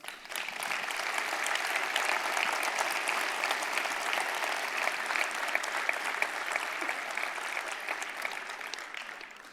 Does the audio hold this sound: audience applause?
yes